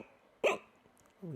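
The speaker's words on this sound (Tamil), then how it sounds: "பச்சிளம் குழந்தைகளில் விக்கல் வந்துட்டு இருக்கும்." A newborn baby hiccups once, a short sharp catch of breath standing out clearly from faint background noise, followed by a soft voiced sound at the end.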